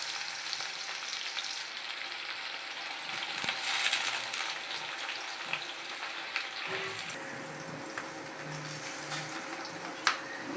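Chopped onions hit hot oil already tempered with dried red chilli, giving a steady close sizzle and crackle that swells briefly, with faint clinks and stirring knocks of a utensil against the pan.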